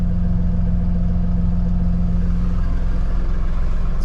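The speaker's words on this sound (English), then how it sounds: "we are at an absolute idle. Turn the PTO on." A tractor engine holds a steady low idle with the PTO engaged, driving a driveway plow attachment that spins slowly. The rumble is loud and close and continuous, with no voices.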